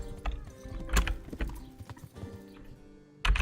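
Horse hooves clip-clop at a steady trotting rhythm in the medieval role-playing game Kingdom Come: Deliverance, close and fairly loud with faint background ambience and no talk.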